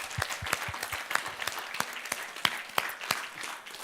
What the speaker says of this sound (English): a big round of applause for all of